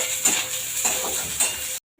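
Chopped onion and garlic fry in a pan on a gas stove, with a close, soft sizzle broken by three quick stirring scrapes before the sound cuts off abruptly.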